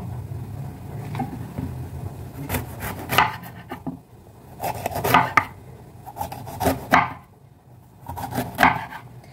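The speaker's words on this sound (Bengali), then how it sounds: "গাজরগুলো দেখো রাঙালুর মতোই গোল গোল করে কাটলাম" A knife slices carrots into rounds on a wooden board, sounding as clusters of crisp chopping strokes that come in bursts with short pauses, close and fairly loud, no talking.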